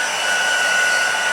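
A handheld heat tool blows hot air to dry paint on a pencil-and-paint craft project, a loud, close, steady whirring hiss with a thin high whine running through it.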